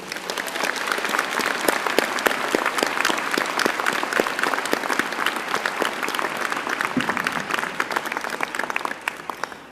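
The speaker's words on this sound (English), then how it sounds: "Could you please join me in a round of applause for these outstanding musicians?" Graduation audience at a Sheridan convocation ceremony applauds the Sheridan Ensemble musicians, a dense, steady wash of many hands clapping at full strength throughout, with no speech over it.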